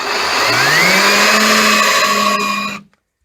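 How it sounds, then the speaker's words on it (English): A power drill bores into the hinge pin of a stiff Jeep tailgate hinge, its motor whining up to a steady high pitch for a couple of seconds before cutting off abruptly into silence. "And that's how we're going to drill"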